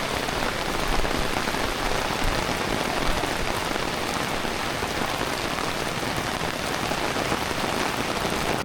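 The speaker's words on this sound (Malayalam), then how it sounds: "നമ്മുടെ പുറത്തിറങ്ങിയിട്ട് മഴ നോക്കുന്നുണ്ട്." Heavy rain falls during a flood in Sumatra, Indonesia, drumming on surfaces as a dense, continuous hiss that stays steady and close throughout, with no voices.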